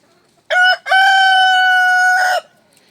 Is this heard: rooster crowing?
yes